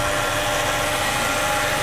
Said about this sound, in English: Transmission is making a noise.